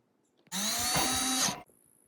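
Cordless drill driving fasteners during metal hardtop gazebo assembly, a single loud whirring burst of about one second with a rising whine, alone and close.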